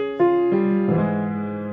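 A piano sounds a rolled chord, several notes entering one after another in quick succession and ringing on together, clear and close with no talking.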